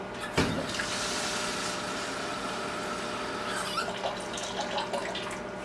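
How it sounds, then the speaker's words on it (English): Tap water runs into the inner pot of a Toshiba electric rice cooker already holding one cup of rice, a steady close splashing stream that keeps going for several seconds. "Now I'm going to fill it up with water."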